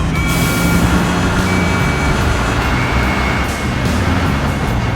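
Constant car traffic on a street in Construction Simulator, a steady wash of engines and road noise with intermittent tonal beeps like a reversing vehicle, loud and continuous.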